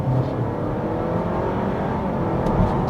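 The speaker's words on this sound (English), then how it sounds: "It actually changed gear, even though it doesn't have a gear to change into because it's just single speed." Honda Civic hybrid under kick-down acceleration, engine roar rising with a faked gear change, a brief shift in drone tone within a steady loud whir.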